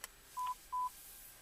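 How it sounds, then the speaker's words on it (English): Two short electronic beeps from a Bluetooth handsfree calling device installed in a car, sounding as the hang-up button is pressed to end a call, clear and close against a quiet background. "and we just push the hang up button"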